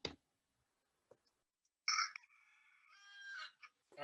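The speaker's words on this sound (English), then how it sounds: "the chicken works again." A rooster crowing sound effect plays alone, one loud drawn-out cock-a-doodle-doo after a couple of brief clicks, clear and close.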